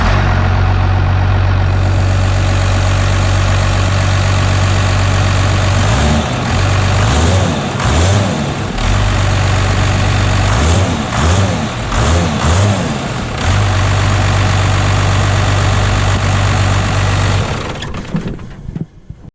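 A first-generation Cummins 12-valve diesel in an '82 build runs at a loud, steady idle, broken by several sharp throttle blips in the middle, then shuts off near the end.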